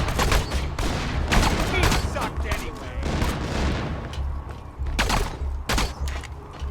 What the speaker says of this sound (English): Let's pull out the pistol and go close range on these guys.